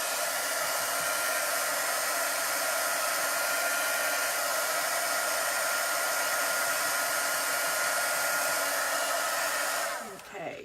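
A heat dryer blows continuously at close range for about ten seconds, drying chalk paste on a Chalk Couture transfer, a loud steady hissing whoosh that cuts off abruptly at the end.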